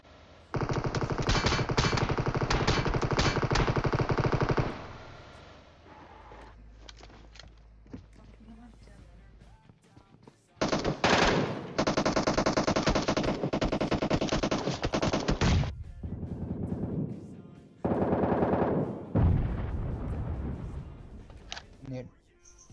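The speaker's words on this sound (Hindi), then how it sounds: "बंदा गोली चला रहा है" Gunfire in the mobile game PUBG Mobile comes in long, loud bursts of rapid automatic fire separated by quieter gaps with footsteps, while someone talks over the action.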